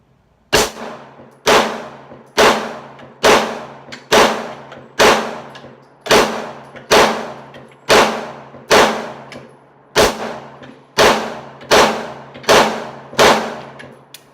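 Semi-automatic pistol shots ring out at an outdoor shooting range, about fourteen loud sharp reports fired at a steady, unhurried pace, each with a short ringing decay, and no talking.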